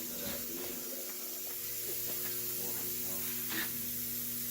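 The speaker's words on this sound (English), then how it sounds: "I'm also going to show it to you running. It's a dryer system we're using." A Chemcut wet process line dryer system runs with a steady mains-like hum and broad airy hiss, continuous and fairly close, with faint clanks and a voice talking underneath.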